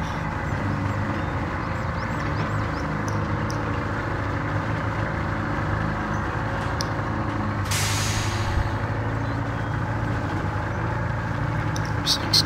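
A Maz 501 truck in Spintires idles and runs with a steady low engine drone throughout, joined by a brief hissing burst like an air release midway, with a voice talking faintly over it.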